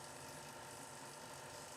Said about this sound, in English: close the valve of the Schlenk tube.